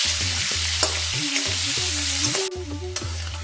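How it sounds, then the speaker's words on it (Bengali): Three potatoes rubbed with salt and turmeric fry in a pan, a close, steady sizzle with repeated stirring and scraping strokes throughout. "আলুগুলো খুব ভালো করে ভাজা হয়ে গেছে, লাল লাল হয়ে গেছে"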